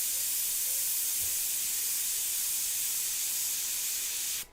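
An airbrush sprays paint for a winter-scene portrait of a woman, a steady, even hiss running alone for several seconds before cutting off abruptly at the end.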